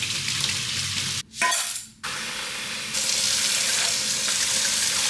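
Rice is rinsed in a kitchen under a running tap, a steady rush of water briefly cut off and splashing as the grains are swished, then the flow resumes louder.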